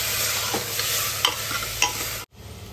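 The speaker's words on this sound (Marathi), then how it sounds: "हे चिकन आता आपण मॅरिनेट केलेलं यामध्ये घालून घेऊया." Marinated chicken sizzles in hot oil with browned onion for a Marathwada-style chicken curry, stirred in the pan with a few louder scrapes and clatters over a steady fry before a brief cut near the end.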